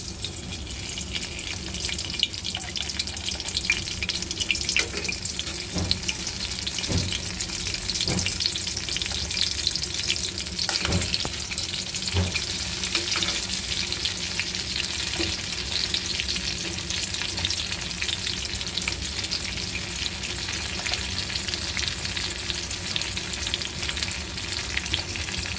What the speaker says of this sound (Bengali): এই যে বেগুনগুলো আল্লাহর রহমতে আস্তে আস্তে ভেজে নিব